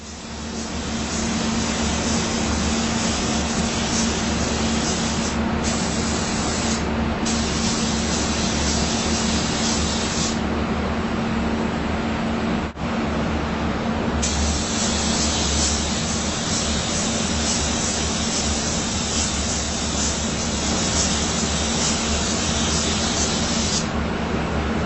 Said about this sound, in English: we're just going to paint this edge on a normal coat like you would paint anything